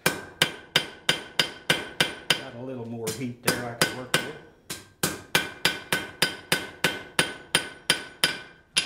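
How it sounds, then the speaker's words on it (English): Rhythmic hammer blows ring sharply on hot steel on an anvil at a steady pace, pausing briefly while someone speaks, then resuming the regular strikes. "My hammer's hitting the piece of steel"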